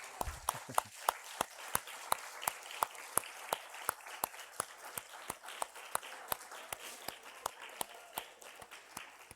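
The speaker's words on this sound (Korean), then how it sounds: "우리 첫 출석인데 열렬한 박수 한번 해주십시오." A congregation at a Sunday morning church service claps in slow unison, a steady, evenly spaced beat of sharp claps that continues for several seconds without talk.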